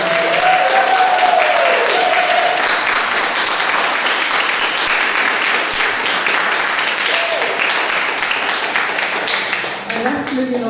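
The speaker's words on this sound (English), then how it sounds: "can everyone give a huge round of applause to Lily?" A live audience gives Lily a long round of applause at a Soul Talks event, dense steady clapping that fills the whole stretch, with a voice speaking briefly at the start and again as the clapping thins near the end.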